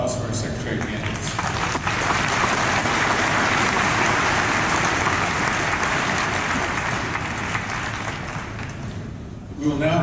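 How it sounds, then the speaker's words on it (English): A dense, sustained round of applause fills a political party convention hall for the secretary candidates, steady and loud for about ten seconds before tapering, with voices mixed into the crowd noise. "Let's have one more round of applause for our secretary candidates."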